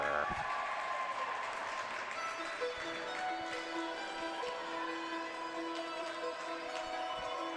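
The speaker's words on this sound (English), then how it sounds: "A hearty round of applause emanating from the sections to our left" Sustained applause from an arena crowd at a college hockey game between Drexel and West Virginia, a steady broad wash of clapping that holds evenly throughout, with faint tonal hum underneath.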